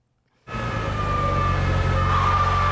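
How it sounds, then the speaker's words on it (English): European police sirens in a movie scene cut in abruptly after a brief silence and hold a loud, steady, tonal wail over a deep vehicle rumble, with no talking. "Gotta have the European sirens."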